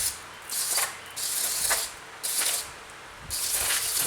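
Cleaner sprayed onto the head of a Briggs Intek engine during a head gasket replacement, in four long, loud hissing bursts separated by brief pauses.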